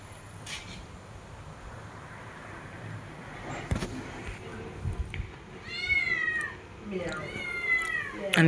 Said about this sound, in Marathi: आणि ही एक मांजर